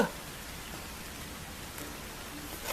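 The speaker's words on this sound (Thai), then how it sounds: "ฝนตกแล้ว" Steady rain falls and patters on surfaces in a constant, dense hiss, with no voices.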